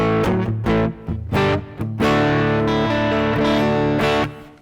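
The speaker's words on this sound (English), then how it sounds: "Let me hit it with a little bit of reverb over here, my Hall of Fame reverb." Electric guitar through a Strymon Iridium amp modeler with TC Electronic Hall of Fame reverb, loud driven chords and ringing notes that sustain and wash out into a reverb tail at the end, no talk.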